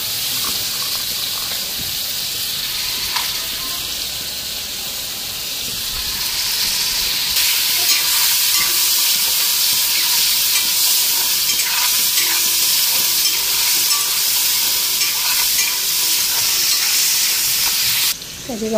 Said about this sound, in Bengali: মশলা করছি, কাঁকড়াগুলি হালকা ফ্রাই করে নিই।